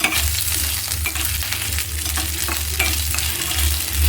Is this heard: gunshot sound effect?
no